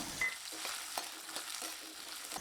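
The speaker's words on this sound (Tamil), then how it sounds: "1 கப் அளவுக்கு சின்ன வெங்காயம் உரித்து வச்சதை சேர்த்து வதக்கி விட்டுக்கலாம்." A quiet, steady sizzle of shallots and garlic sautéing in hot oil, with soft intermittent stirring clicks, faint and close.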